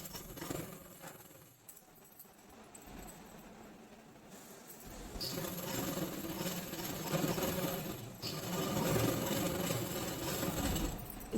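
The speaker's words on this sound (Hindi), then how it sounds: "इसे मिलाने के बाद में मैंने इस तरह से सिलाई लगाती हूँ" A sewing machine stitches the joined edges of night dress fabric, running in a steady continuous mechanical whir that grows louder and denser partway through, close and alone.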